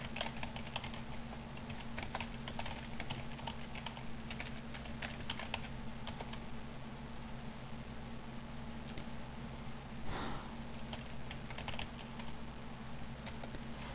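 Steady, continuous typing on a computer keyboard during a computer lesson, close and busy clicking over a constant low electrical hum, with no talking.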